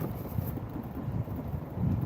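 Steady wind buffeting the microphone out on the water while fishing, a continuous low rumbling roar with no voices.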